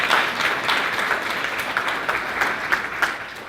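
Lively applause from a real estate office audience, with crisp individual claps standing out in a steady, close wash of clapping.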